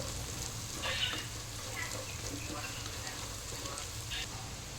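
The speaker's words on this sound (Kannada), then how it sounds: "ಇವಾಗ ನೋಡಿ, ನೀರುಳ್ಳಿ ಫ್ರೈ ಆಗ್ತಾ ಬಂತು." Onions frying in a pan, a steady close sizzle and crackle with occasional brighter spits, running continuously with nothing else standing out.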